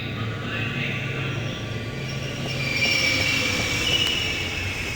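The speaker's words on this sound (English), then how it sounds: "Alright, let's wait for the train." In the video game The Longest Journey, a train rolls into a station with a steady rumble and a high metallic wheel squeal that grows louder toward the end.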